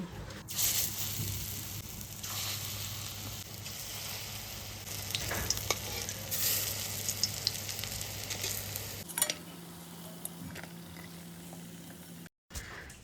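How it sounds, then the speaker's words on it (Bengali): Masoor dal fritters fry in oil in a pan, giving a steady close sizzle with scattered pops. Around nine seconds the frying noise drops to a softer hiss with a few clicks. No one speaks. "বড়াগুলো লাল লাল করে ভেজে নিয়েছি"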